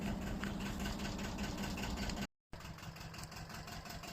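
An old tractor engine runs with a steady, low mechanical rumble and a faint knocking rhythm, briefly cutting out for a moment before carrying on, with no voices.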